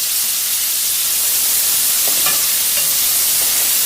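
Radish and radish leaves sauté in a pan, giving a loud, close, continuous hissing sizzle with a few faint stirring clicks partway through.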